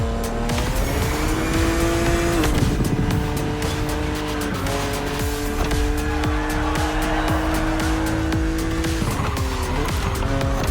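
A BMW Z roadster races against an aggressive opponent in The Crew Motorfest, its engine droning loudly and steadily with shifting pitch, tires squealing and skidding throughout.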